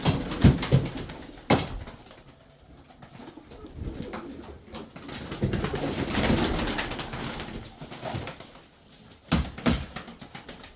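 Tumbler pigeons cooing in a loft, soft repeated low coos close by, with occasional wing flutters and knocks among the birds and no talking.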